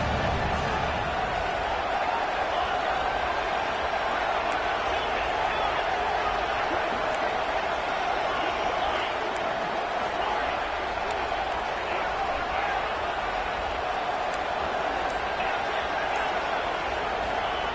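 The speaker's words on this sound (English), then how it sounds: "this crowd is fired up. Listen to this noise here." A stadium crowd in College Football 25 roars with a steady, dense wall of cheering that holds loud and unbroken throughout, with a commentator talking over it.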